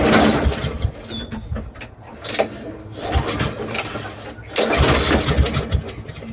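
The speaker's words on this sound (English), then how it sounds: "let's fire it up and make sure everything's still good. Okay, so we'll set it to choke" Small lawnmower engine being started on choke, with repeated pull-start cranking, rough sputtering bursts and uneven running, heard close with someone talking over it.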